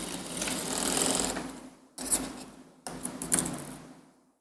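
Sewing machine stitching a kurti along an ironed fold line with a shortened stitch length, three close bursts of fast needle whirring separated by brief pauses.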